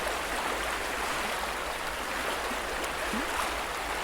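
Steady broadband rush of flowing water, like a river heard from nearby, continuous and unchanging with no voices.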